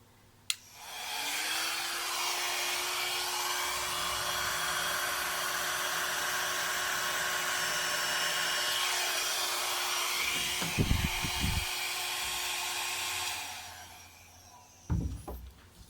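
A hair dryer blows across wet paint on a Dutch pour painting in yellows and blues, a steady broadband whoosh that runs for about twelve seconds and then cuts off, with a few soft knocks near the end.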